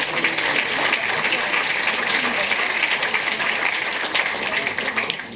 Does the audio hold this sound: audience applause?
yes